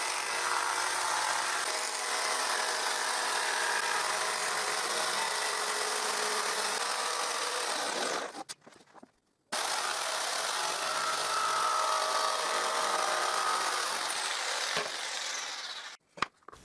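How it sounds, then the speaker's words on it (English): A jigsaw cutting a thin marquetry sheet, a steady buzzing whine held for about eight seconds, a short stop, then another long continuous cut, close and fairly loud with no talking. "And I cut it with my jigsaw."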